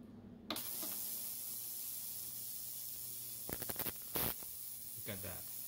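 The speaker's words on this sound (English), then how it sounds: "I'm gonna let the digital ultrasonic cleaner for 3 minutes, then let's see how it cleans the pieces" A digital ultrasonic cleaner runs with silver jewelry and coins soaking in a baking soda bath, giving a steady close hiss and hum with a few brief clatters and knocks near the end.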